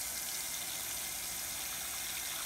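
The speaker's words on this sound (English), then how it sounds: "start filling it up, and feel free to add a little bit more dish soap in there too" Hot water runs from a tap into a bowl holding dish soap, a steady, bright hissing gush that continues evenly without pause and with no talking.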